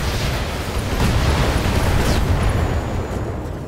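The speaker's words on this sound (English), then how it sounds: "LRM explosion will do it." A long-range missile (LRM) explosion in the Battletech mech combat video game: a sustained, loud, rumbling blast that fills the whole stretch with dense low-end roar and no pause.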